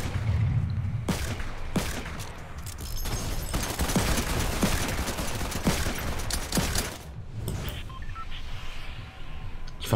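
Rapid gunfire bursts from the video game Fortnite, a dense string of shots and impacts running steadily through the whole stretch over game background noise.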